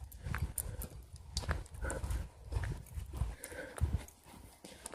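A horse walks on a trail ride out from a stable, its hooves clip-clopping in a steady, uneven rhythm of distinct, fairly close beats throughout.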